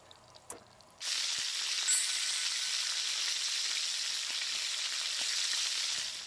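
Steady loud sizzling of Korean hanwoo beef steak frying in a hot pan, starting abruptly after a brief quiet moment and continuing evenly throughout.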